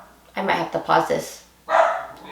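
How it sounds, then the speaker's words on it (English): A dog barks in short bursts at home after the front doorbell rings, the barks close and loud, mixed in with a person talking over them. "Sorry about the dog. The front door just rang,"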